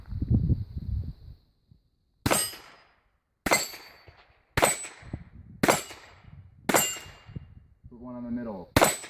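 A French Mle 1892 revolver firing 8mm French Ordnance at steel plates: six sharp shots in a fast, even string, each followed by a ringing metallic clang, with brief talk at the start and near the end.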